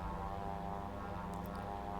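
A Sea Ray amphibious tail-dragger boat plane lifting off, its propeller engine droning loud and steady with a strong tonal hum throughout.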